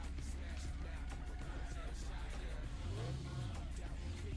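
A race car engine in the Acceleracers video game drones steadily and loudly, rising briefly in pitch as it accelerates midway before settling back, with a voice talking over it.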